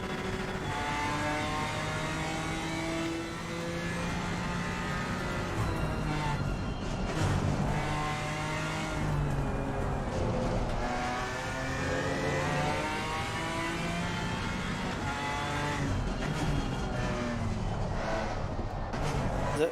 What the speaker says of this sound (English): The revs sound so low